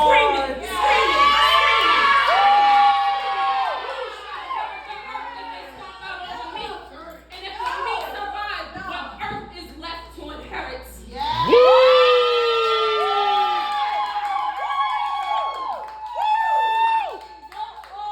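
An audience at a live poetry performance cheers, shouts and whoops loudly, with scattered clapping. Bursts of excited crowd voices rise and fall over about eighteen seconds before building again near the end.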